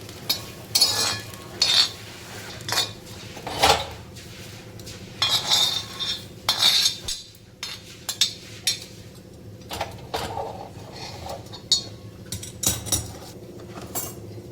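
Cooked cluster bean curry is moved from a tawa onto a plate, with repeated metal scrapes and clinks of a spatula against the pan and plate in irregular bursts, close by and without speech.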